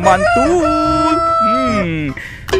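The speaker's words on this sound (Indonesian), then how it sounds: "Ternyata ada ayam berkokok" A toy rooster gives a loud, close electronic crow with drawn-out rising and falling tones, followed by a brief spoken word.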